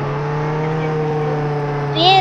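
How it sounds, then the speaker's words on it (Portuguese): A car engine revs with a steady, droning hum that holds a constant pitch and then rises briefly at the end, close and fairly loud. "Vou dirigir meu carrão."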